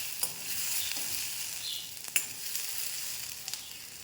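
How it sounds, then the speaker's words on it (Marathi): Onion roasting in ghee with cinnamon, black pepper and cloves gives a soft, steady sizzle close by. A few brief scrapes and clicks of stirring punctuate it, and there is no speech. "आता आपला कांदा छान भाजला आहे"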